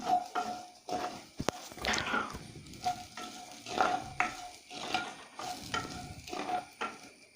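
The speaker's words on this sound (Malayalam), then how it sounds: "നന്നായിട്ട് മിക്സ് ചെയ്യാം." A frying mixture seasoned with dried chili powder is stirred in a pan, giving repeated scraping strokes over a soft sizzle, close up, with no talking.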